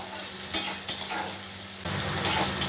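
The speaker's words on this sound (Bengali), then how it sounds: "আমি 2 থেকে 3 মিনিট একটু পেঁয়াজটা ভাজা করে নেব।" Chopped onions sizzle in a pan for a bitter gourd dish while a spatula stirs them, giving a steady fry hiss broken by several sharp scraping strokes close by.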